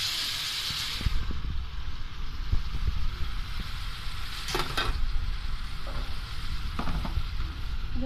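Blended ginger, onion and garlic paste dropping into hot oil for a spicy beef and potato curry, a steady close sizzle with scraping stirring and a louder hiss midway.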